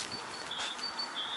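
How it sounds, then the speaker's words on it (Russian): Faint, distant birds chirp in short, high repeated calls over a soft outdoor background. "Как птички поют."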